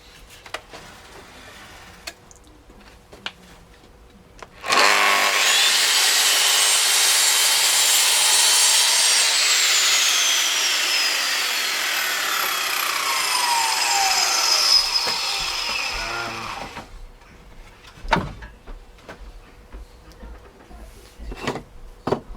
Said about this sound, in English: Just do a cut this quickly.